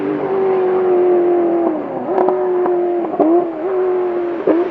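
A Ferrari F40 in the racing game The Crew 2 holds a steady, loud engine drone, its pitch dipping briefly at a few gear shifts, with no talking.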